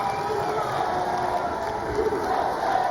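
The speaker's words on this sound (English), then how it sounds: "The crowd doing their usual celebrations." A crowd at the Mosconi Cup pool match between the United States and Europe cheers and celebrates in a sustained, lively roar filling the arena.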